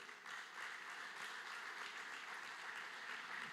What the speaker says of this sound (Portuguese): Dê uma salva de palmas do Senhor